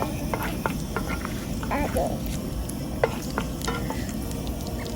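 Steady sizzle of curry leaves frying in fresh coconut oil with a few light clinks and stirring scrapes, close up, no one speaking.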